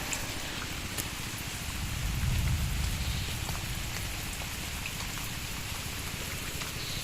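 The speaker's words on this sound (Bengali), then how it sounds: "একদম এই বৃষ্টি একটু কমছে, অনেকটাই কমে গেছে" Rain pours steadily onto a garden, a close, even patter of drops on leaves and ground, briefly heavier in the middle, with no one speaking.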